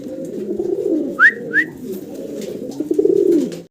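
A pair of Danish pigeons cooing in low, throaty bursts close by, with two brief higher chirp-like notes in the middle and the cooing carrying on steadily underneath.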